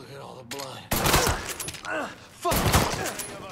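Gunfire in the video game Mafia 3 comes in two loud, dense bursts of rapid shots with a brief lull between them, while someone shouts excitedly over the shooting.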